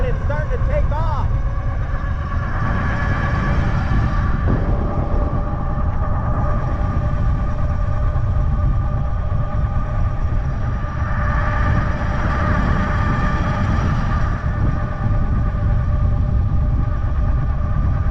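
A Tamobyke T73 Pro Max electric bike with its front motor engaged, accelerating with a steady, loud rumble and whine of motor and wind, while a person talks over it.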